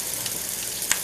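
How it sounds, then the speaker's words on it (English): Cardamom pods and peppercorns crackle in a hot pan while spices toast for a cream curry sauce, a steady sizzling hiss with a few faint pops and one sharper crack near the end. "Now I can hear the crackling of, it's probably the cardamom pods or the peppercorns."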